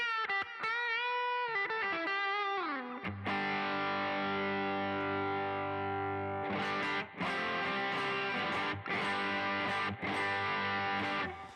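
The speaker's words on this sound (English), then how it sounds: "right now I just have a deluxe spring reverb just for a good all around wet sound" Electric guitar played through a deluxe spring reverb effect, with a clean gliding melodic phrase first, then heavy distorted sustained chords ringing with a wet, spacious tail, loud and close with brief cuts between strums.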